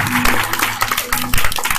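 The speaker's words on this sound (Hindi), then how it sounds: "सब लोगों ने कहा एक जोरदार ताली बजा हमारे प्रभु के लिए।" A congregation at a Christian prophetic meeting in Gorakhpur, Uttar Pradesh, claps loudly together for Jesus, a dense burst of applause with a voice rising over it.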